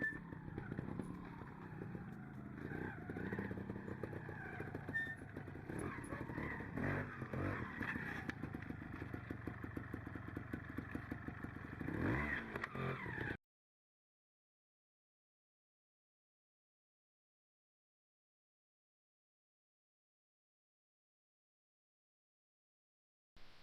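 Trials motorcycle engine on a trials ride, a steady loud drone with clattering and scraping for about thirteen seconds, then silence until a brief burst at the very end.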